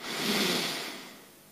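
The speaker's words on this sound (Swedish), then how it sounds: "Och ta ett djupt andetag in." One deep breath drawn in during a morning yoga breathing exercise, a close, airy inhalation swelling and then fading over about a second and a half, with no talking.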